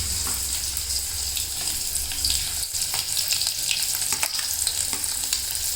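Chopped onion sautéing in hot oil with cumin, a loud, steady sizzle with crackling spits and occasional stirring clinks, continuous and close throughout with no talking.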